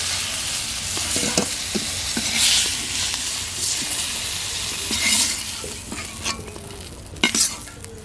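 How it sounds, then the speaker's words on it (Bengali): Fried eggplant slices are lifted out of hot oil in a pan, the oil sizzling and crackling steadily while a metal utensil clinks and scrapes against the pan several times, loud and close. "এখন বেগুনগুলো তুলে নেব।"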